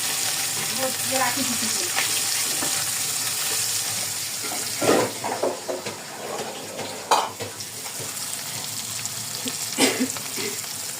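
Hilsa fish sizzles steadily in hot oil as it fries until crispy, with occasional clinks of a utensil against the pan over the constant crackle.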